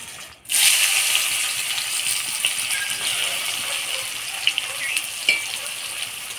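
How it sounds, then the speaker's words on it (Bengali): Chopped onions hit hot oil spiced with whole garam masala, cloves, cinnamon, cardamom, dried chilli and bay leaf, bursting into a loud, continuous sizzle with a few small pops and stirring clicks along the way. "পেঁয়াজটা ফোড়নের তেলে একটু লাল লাল করে ভেজে নেব।"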